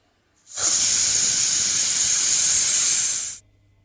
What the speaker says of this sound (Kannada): ಈಗ ಲಿಡ್ ಕ್ಲೋಸ್ ಮಾಡಿಕೊಂಡು ಒಂದು ವಿಸಿಲ್ ಮಾಡ್ಕೊಳ್ಳೋಣ.